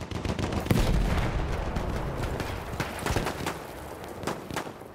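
Machine gun fire in the World War I shooter Battlefield 1, rapid bursts of crackling shots mixed with heavier booms, loud and dense, with scattered battle noise and no talk.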